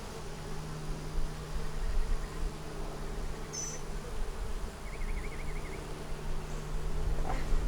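A big honey bee swarm drones in a continuous, dense buzz around the listener outdoors, with occasional individual bees whining past up close over a steady low hum.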